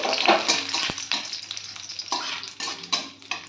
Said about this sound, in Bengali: এবার ওই তেলের মধ্যে আমি একটু কাজু আর কিশমিশকেও একটু ভেজে নিচ্ছি।